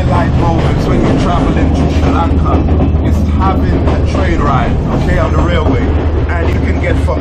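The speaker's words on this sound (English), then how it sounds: "Traveling to Sri Lanka is having a train ride, okay, on the railway." Train ride on a Sri Lankan railway line, such as the Colombo or Ella to Kandy route: a steady, loud rumble of the moving carriage with rattling wheel and track noise throughout, and voices faintly mixed in.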